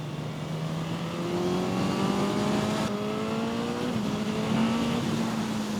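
A Suzuki GSX-S1000 motorcycle engine revving and accelerating through the gears, a steady rising whine that climbs in pitch, drops briefly at a shift, then climbs again, loud and continuous with no speech.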